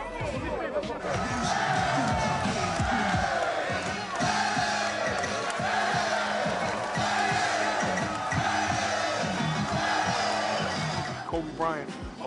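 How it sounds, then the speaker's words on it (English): Loud street basketball crowd yelling and screaming throughout, dense overlapping shouts and babble with rhythmic thumps, likely a ball bouncing, beneath the roar at an outdoor pickup game. "They was yelling and screaming."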